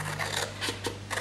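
Scissors cut through cardstock in several quick snips, a crisp close rasping rhythm with short pauses between the strokes.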